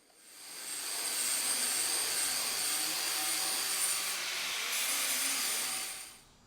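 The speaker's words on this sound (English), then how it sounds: "we're gonna take our good old flapper disc and give her a once over, get the welds grinded down" A flap disc on an angle grinder smoothing down welds on the front inner fenders of an OBS truck, a steady high-pitched abrasive whine that holds loud and close for several seconds without a break.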